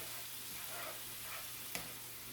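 White wine poured into a hot pan of mushrooms gives a faint, steady sizzling hiss that continues throughout, with one brief sharper crackle near the end.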